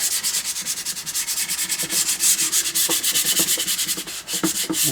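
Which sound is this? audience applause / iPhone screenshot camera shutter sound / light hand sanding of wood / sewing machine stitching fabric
light hand sanding of wood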